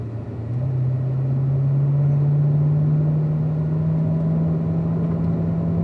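A car accelerating steadily out of a corner on the Spring Mountain race track, a continuous loud engine drone rising gradually in pitch as the throttle is squeezed, with no talk.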